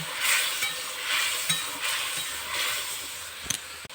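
Eggs stirred with salt, turmeric and spices in a frying pan for egg kalia, with a steady soft sizzle and scraping under faint kitchen noise, ending in a couple of sharp utensil clinks.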